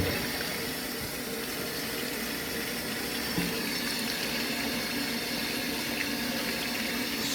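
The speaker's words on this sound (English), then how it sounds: "after I do my first rinse, I'm gonna add the vinegar, and then I'm gonna do a final rinse." Tap water runs steadily into a sink or pot while mushrooms and peppers are rinsed, a constant low splashing rush with no talking.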